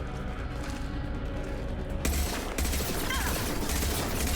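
Mass Effect 2 turret gunfire rattles in sustained, dense bursts amid loud continuous game combat noise, with a sharper burst of firing kicking in midway and carrying on to the end.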